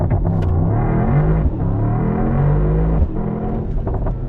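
From inside a 2024 Mercedes-AMG GT63 two-door in race start mode, the V8 gives a loud, close roar that builds steadily, breaks briefly at each gear shift and then pulls hard again.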